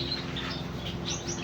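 Java sparrows kept as caged birds in Baghdad, rated healthy with full plumage, give a steady run of faint, high chirps and tweets over a constant background hum, with no voices.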